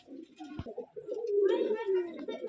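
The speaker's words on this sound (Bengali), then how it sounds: "মাদি কবুতর, কবুতরটা অনেক সুন্দর দেখতে, গররা কবুতর।" Several domestic pigeons, including a female, coo in low, rolling bursts close by, the throaty calls swelling and overlapping through the middle of the clip.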